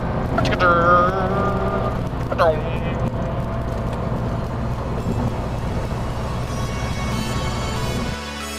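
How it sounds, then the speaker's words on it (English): A car engine drones steadily throughout, a low constant hum with some higher whining tones early on, heard from inside the vehicle. "I do really enjoy the engine noise"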